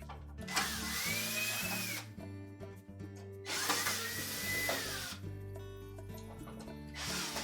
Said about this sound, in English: next we'll need to remove those 4 screws, 2 on either end and the one at the bottom